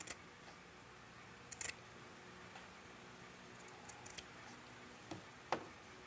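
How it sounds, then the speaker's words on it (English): Scissors snip through the corners of sewn fabric in a few short, sharp cuts spread across a quiet room, with light handling noise between the snips. "Now I cut the corners so that when I turn it over, it doesn't be too bulky in the corner."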